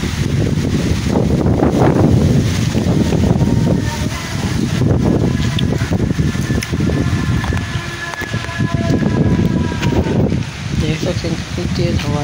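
Strong storm wind buffets the microphone in loud, rumbling gusts that rise and fall, with a voice talking throughout over the roar.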